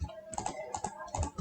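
Typing on a computer keyboard, a quick run of close, light key clicks in uneven bursts, alone with no talk.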